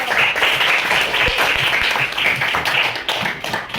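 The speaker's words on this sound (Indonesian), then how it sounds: "Oke, tepuk tangan juga untuk si Niko." Students in a classroom giving a round of applause, loud close clapping with scattered taps and bursts lasting throughout, no speech over it.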